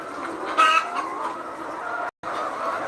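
Older layer hens in a poultry house cluck and murmur continuously, with one louder cackle standing out above a steady background of flock noise.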